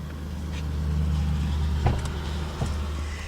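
An old car drives past on a beach-area road, a steady low engine rumble that swells and fades with brief mid-range knocks, heard alone without voices.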